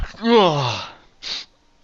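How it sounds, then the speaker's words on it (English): A single close sneeze, a long strained voiced intake followed by a short sharp burst of breath, alone with no talk. "Sorry, I had to sneeze."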